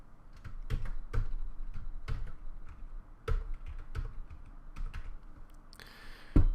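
Irregular typing on a computer keyboard, separate sharp key strikes and short bursts with gaps between them, close and clear, ending in a louder clatter, with no talking.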